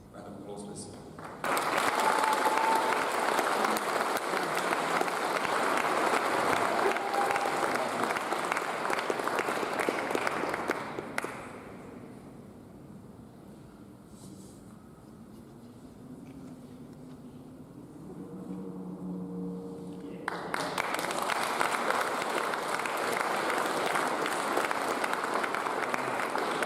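Applause from the audience at a Year 11 school prize giving, a sustained broadband clatter of many hands that fades to a quieter patch with faint voices before a second loud burst of clapping swells up.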